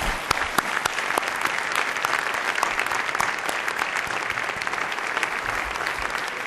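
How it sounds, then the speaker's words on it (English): Steady, full applause from an audience at a community service award presentation, a dense even wash of many hands clapping at a constant level with no talk over it. "Let's give them all a round of applause"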